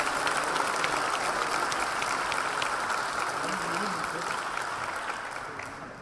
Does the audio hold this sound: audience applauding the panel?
yes